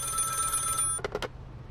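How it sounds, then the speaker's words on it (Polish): Telephone ringing in the video game Contraband Police, a steady electronic ring held for nearly a second before it cuts off, followed by a couple of short thumps, moderately loud over a low hum. "O, telefon."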